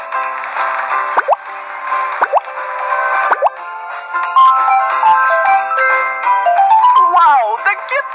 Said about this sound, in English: Let's water the Christmas tree.